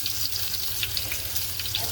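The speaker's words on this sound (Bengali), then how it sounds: "এখন আমি পরিমাণ মতন পেঁয়াজ দিচ্ছি।" Onions added to a hot pan for a goat-head and chana dal curry, frying with a steady soft sizzle and crackle throughout, fairly close.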